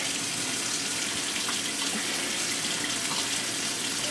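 Running water rinses blue foaming bath butter lather off, a steady close gushing like a tap into a tub, continuous and even throughout with no talking.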